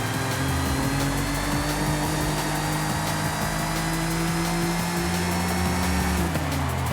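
A steady engine drone with sustained harmonic tones from a race car in the video game Forza Horizon 5, holding pitch before dropping near the end.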